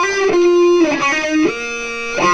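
Electric guitar plays a bending, sliding solo line with a funky wah-like tone, loud and close with sustained notes and a few quick pick attacks, no talk.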